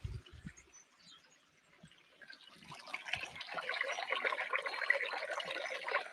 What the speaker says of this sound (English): it comes down this waterfall, this beautiful waterfall here